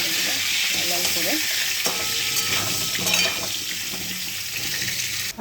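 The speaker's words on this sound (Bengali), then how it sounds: "বড় বড় করে আলুগুলো কেটেছি। ভেজে নেবো আলুগুলো লাল লাল করে।" Large chunks of potato frying in a pan, a steady hiss of hot oil running throughout with a few clinks and stirring knocks, heard up close with no talking.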